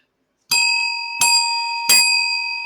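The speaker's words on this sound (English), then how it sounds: "Three bells from Molly." A bright, metallic bell rings three times in steady succession. Each clear strike is loud and close, and its tone rings on before the next one sounds.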